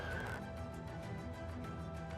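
A horse whinnies briefly at the start, fairly close, followed by soft hoof shuffles and ambient outdoor noise.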